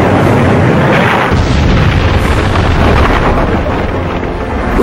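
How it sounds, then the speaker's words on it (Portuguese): A huge cosmic impact explosion, a deep continuous roaring boom that fills the whole stretch loudly and steadily, with a low rumble throughout and no voices. "quando há uma grande explosão, esse material é lançado ao ar"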